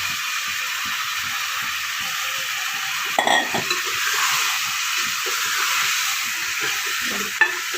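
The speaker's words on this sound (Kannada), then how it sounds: "ಅಕ್ಕಿ ತೊಳೆದು ವಾಶ್ ಮಾಡಿ ಇಟ್ಕೊಂಡಿದ್ವಲ್ಲ ಅಕ್ಕಿ ಹಾಕೋಣ" Washed rice goes into a cooking pot of mashed moong dal for a dal rice dish, with a steady hiss of the hot pot and a couple of sharp clanks of a utensil against metal.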